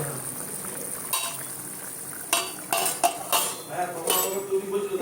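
A metal lid clatters onto a pot of simmering egg curry, with several sharp clanks and rattles near the end over a low bubbling background, close by and without talking.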